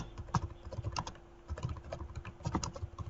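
Close, quick keystrokes on a computer keyboard come in irregular bursts, light clicky taps with short gaps between them and no talking.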